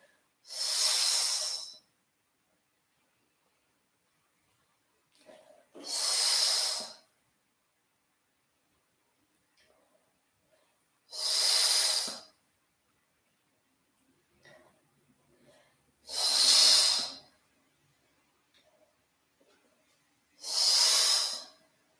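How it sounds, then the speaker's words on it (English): Slow, deliberate breaths during a dumbbell Pilates roll-up exercise: five strong airy exhalations spaced about five seconds apart, each a hissing whoosh, with faint inhales between them, close and alone without talk. "Exhale as you scoop to hold. Inhale as you come back."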